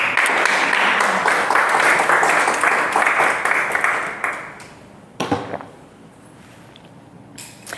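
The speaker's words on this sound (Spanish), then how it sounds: "Dele un fuerte aplauso al Señor." A church congregation claps loudly and steadily for several seconds, the applause fading out into a quieter room with a few scattered claps at the end.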